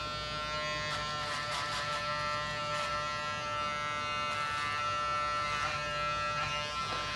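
Electric trimmer buzzing steadily as it trims beard stubble up close, a constant whining hum with faint scratchy bursts where the blades meet the hair.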